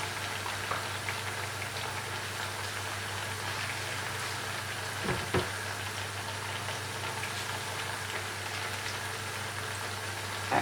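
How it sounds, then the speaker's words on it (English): Ripe plantain slices frying in a pan, a steady broadband crackle and bubbling hiss running evenly throughout over a low hum, with no talk. "I'm going to let these cook and then turn them over."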